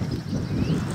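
Outdoor wind buffets a microphone in a vegetable garden, a low rumbling, blustery roar lasting about a second with no voices.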